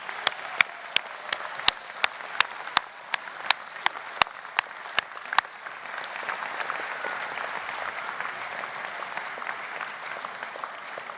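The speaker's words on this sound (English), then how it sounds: "they deserve a warm round of applause" Graduation ceremony audience giving a warm round of applause; sharp, loud individual claps ring out close by over a broad wash of crowd clapping, which continues steadily after the close claps stop.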